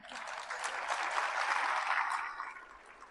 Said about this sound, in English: Now that deserves an applause.